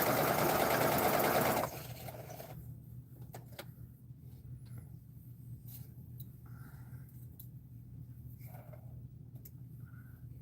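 A sewing machine stitching pieces of an arrowhead quilt block runs loudly and steadily for about a second and a half, then stops, leaving a quiet room with a low hum and a few faint clicks.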